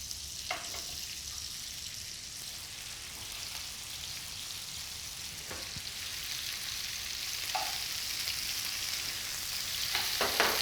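Lamb pieces for stew sear in a hot pan with a steady, bright crackling sizzle, punctuated by a few sharp spits and pops and building slightly louder toward the end.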